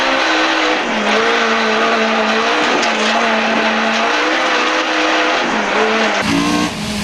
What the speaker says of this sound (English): Just listen to that BDA.